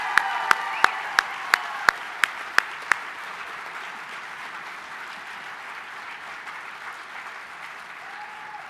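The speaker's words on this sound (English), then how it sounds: "Let's give them another round of applause" Applause at a fundraising gala: a crowd claps in a dense, steady wash that holds for the whole stretch, with a row of sharp, evenly spaced clicks at the start.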